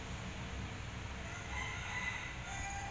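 Faint chicken clucking from a fowl in the Minecraft video game, brief calls over a low steady background hum, no talk.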